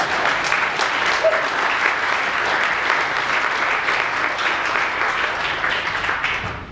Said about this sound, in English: Usually I get applause.